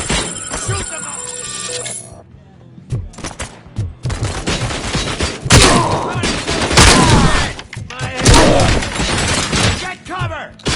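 Loud, dense gunfire in the RoboCop video game, rapid overlapping shots and ricochets in chaotic bursts mixed with shouting voices and clattering impacts.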